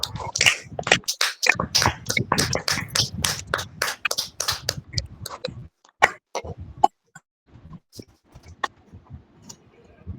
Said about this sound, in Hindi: पवित्र आत्मा जी का एक जोर से ताली बजा के और प्रभु का वेलकम करते हैं हम